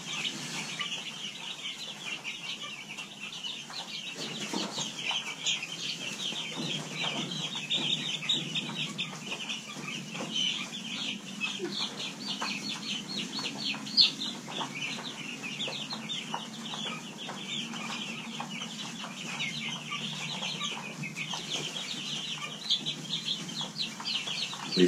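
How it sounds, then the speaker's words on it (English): Chickens cluck and murmur steadily inside a roomy coop, a continuous close chorus of soft clucks and occasional sharper calls with no talking. "She'll like watching chickens."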